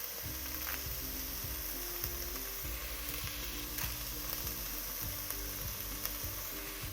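Curry mixture with fresh thyme leaves sizzling steadily in a hot pan, a dense continuous frying hiss with occasional stirring scrapes, close and alone without voices.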